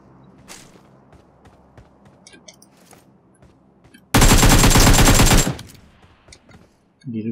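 A loud burst of automatic gunfire in the PUBG Mobile video game lasts about a second and a half amid quieter in-game footsteps and clicks, with one earlier shot.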